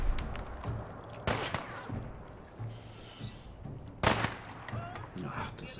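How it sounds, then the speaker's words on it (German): Gunfire in the Fallout 4 video game during a fight at a South Boston high school: several sharp, loud shots, including a strong burst near the start and another midway, over low background game noise. "das ist doch wirklich ein Schuss"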